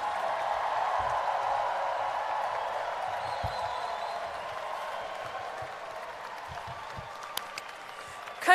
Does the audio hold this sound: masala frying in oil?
no